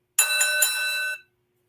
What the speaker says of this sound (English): let's hit that opening bell, Doug.